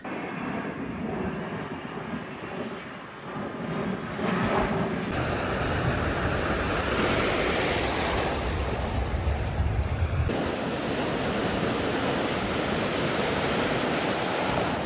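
Ocean waves breaking on a beach, a steady loud wash of surf that surges and stays broad throughout with no voices.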